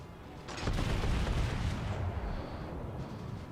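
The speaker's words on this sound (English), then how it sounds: "I'm gonna turn in just a bit so I can bring my back guns to bear" Battleship main guns fire a salvo in the naval game World of Warships, a heavy booming blast that rumbles on and fades over a few seconds.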